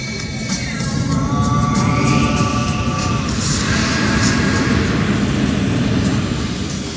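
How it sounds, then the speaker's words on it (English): An F-16 Fighting Falcon fighter jet flies at an air show, its engine a loud, steady broadband roar that holds throughout with a faint shifting tonal whine, no speech over it. "The F-16 Fighting Falcon is a multi-role fighter aircraft right in front of you."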